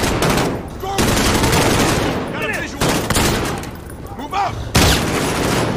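Bursts of AK-47 rifle fire ring out in the Call of Duty Modern Warfare video game, loud repeated volleys separated by brief pauses, with voices in the game mixed through the shooting.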